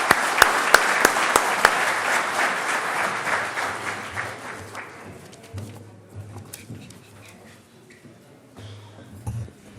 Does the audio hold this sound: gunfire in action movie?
no